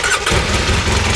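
A farm Ranger utility vehicle's engine, just after a battery charge, cranks and catches, settling into a loud, close rumbling idle.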